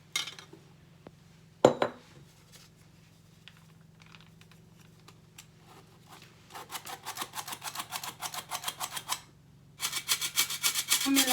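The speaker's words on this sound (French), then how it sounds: "Maintenant, on monte les jaunes d'œufs avec le sucre" Egg yolks being whisked with sugar in a bowl for a strawberry cake, rapid rhythmic metallic scraping in two bursts after a clatter, fairly close, with no talk.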